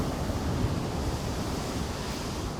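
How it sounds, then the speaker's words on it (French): Ocean waves crash on rocks below the cliff-top corniche road in Biarritz, a steady, dense wash of surf with some wind noise, continuous and fairly loud with no voices. "Et on entend l'océan dans le bas là, de la corniche qui s'écrase sur les rochers."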